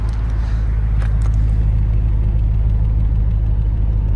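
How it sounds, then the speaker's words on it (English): A 2008 Audi S4 engine idles steadily with a deep, even exhaust rumble, close and continuous, with no breaks or stumbles. "So this is the exhaust."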